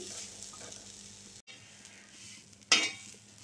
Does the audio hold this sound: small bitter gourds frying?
yes